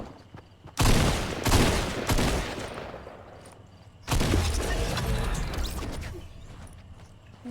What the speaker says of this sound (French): Je lui ai mis quelques balles.